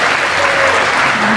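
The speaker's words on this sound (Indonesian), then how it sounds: "Beri tepuk tangan yang meriah lagi dong, teman-teman semua." Loud, dense applause from an audience at an Indonesian student presentation on making noodles from sweet potato and sago, a steady wash of clapping with no talk over it.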